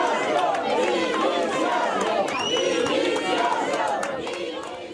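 Hospital workers and users protesting outside Hospital da Costa in Burela, a loud crowd chanting and shouting in unison for resignation, continuous and near, fading slightly at the end.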